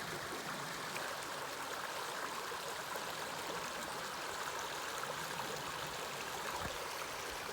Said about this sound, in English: Little side stream that comes in.